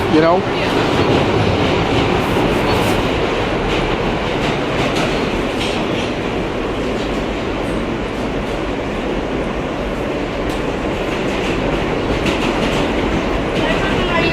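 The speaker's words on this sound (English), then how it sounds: "the trains in a subway in a New York City are less loud than in Moscow" Loud, continuous rumble and rattle of a New York City subway train running, with rhythmic clacking wheels throughout.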